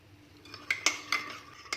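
A spoon stirs sugar into warm milk in a bowl for yeast dough, giving a few sharp clinks against the bowl over a soft swishing, close up, with no voices.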